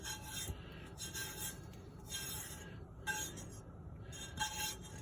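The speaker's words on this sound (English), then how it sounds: "we'll just scrape most of this out of here into this one little place" Wet salt scraped out of a pan into one spot, a steady close rasping and rubbing with occasional light clinks of the pan, continuing for several seconds with brief pauses and no talk.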